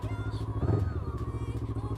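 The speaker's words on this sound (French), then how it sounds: "Donc on va se mettre de l'autre côté de la moto et on va la démarrer" A Honda CB500 motorcycle idles steadily through its exhaust, a low, even, close-up engine throb with a brief louder surge partway through and no talk.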